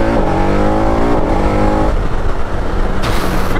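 A 2021 KTM Super Adventure S motorcycle engine revs loud and close, its pitch rising in a smooth sweep, then dropping to a rough, throbbing idle.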